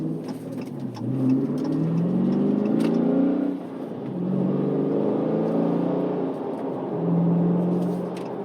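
A 2019 Dodge Challenger R/T Scat Pack Widebody with a manual gearbox accelerates through the gears, its engine note rising in three revving pulls with brief dips between shifts, steady and fairly close throughout.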